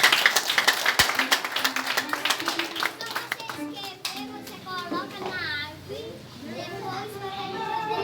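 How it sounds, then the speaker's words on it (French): A crowd claps steadily and rapidly, with children's voices chattering over the applause throughout. "Il faut applaudir, s'il vous plaît."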